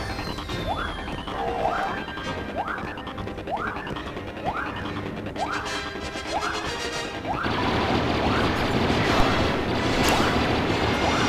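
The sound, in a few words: explosion in the video game Star Wars Battlefront II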